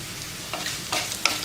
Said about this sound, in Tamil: ஒரு 2 நிமிஷம் நல்லா அப்படியே வதங்கட்டும்.